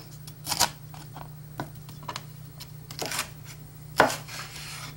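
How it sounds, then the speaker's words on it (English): Knife strokes cutting bell pepper strips on a cutting board for a stir fry, scattered irregular crisp chops with a sharper louder cut near the end, close up with a steady low hum underneath. "Then I lay it down and I cut it in strips."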